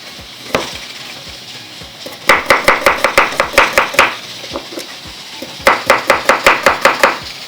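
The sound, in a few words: chopping small onions with a knife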